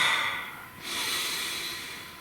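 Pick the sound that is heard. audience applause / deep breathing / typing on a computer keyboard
deep breathing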